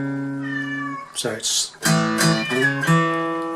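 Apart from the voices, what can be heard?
cat meowing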